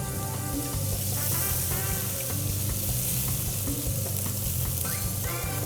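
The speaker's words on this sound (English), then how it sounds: "And now I'm adding red wine." Red wine poured into a hot pan of caramelizing shallots, tarragon and butter, with a steak searing, fills the kitchen with a loud, steady sizzle and crackle that holds throughout, with faint clinks of utensils.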